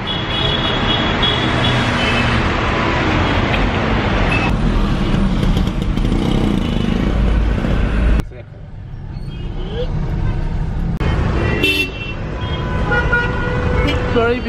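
Car horns beeping in dense Egyptian street traffic, short toots and repeated beeps sounding loudly among engine roar and passing vehicles, with voices also present.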